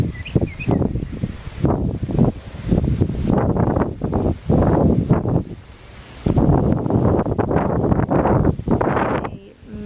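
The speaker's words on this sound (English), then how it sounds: "It's a massive breezy day, which feels so good." Strong wind on a breezy autumn morning outdoors in Florida, gusting loudly and continuously into the microphone with rustling and roaring swells, close and dominant, no voices.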